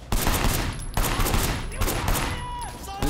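Rapid gunfire in the video game Sleeping Dogs, with repeated loud bursts of shots and a chaotic firefight running through without pause.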